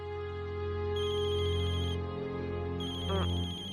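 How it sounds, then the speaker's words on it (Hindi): A mobile phone ringtone plays loudly and continuously in a Hindi TV drama scene, a sustained melodic electronic tone with steady harmonics and brief trilling notes, heard alone without speech. "शेठ का फोन है, लो।"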